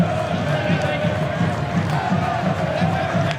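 Friday-night crowd at Hindmarsh stadium during an A-League football match between Adelaide United and North Queensland, a steady, dense murmur of many fans that holds throughout.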